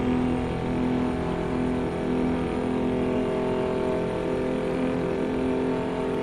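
A truck engine in American Truck Simulator drones at full revs, a loud, steady roar holding the same pitch throughout with no talk over it.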